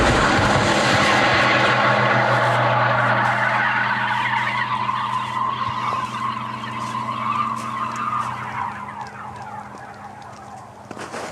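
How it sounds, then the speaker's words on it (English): A vortex cannon fires: an explosion in its base sends out a donut-shaped pulse of air, a loud, sustained rushing roar with a low hum, gradually fading over several seconds. "An explosion in the base of the cannon creates a single pulse of air the shape of a donut"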